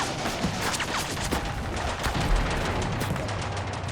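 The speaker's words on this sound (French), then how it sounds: "En haut, les Turcs leur tirent dessus." Dense gunfire from Turkish troops on cliffs above narrow beaches during the April 1915 Gallipoli landing, a continuous crackling fusillade with scattered sharper shots and dull booms throughout.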